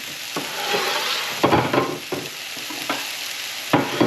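Steady, crackling sizzle of meatballs frying in a pan over medium-high heat, with a few louder scrapes and stirs breaking through the continuous hiss.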